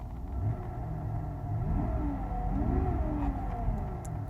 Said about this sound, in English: I'm gonna give it gas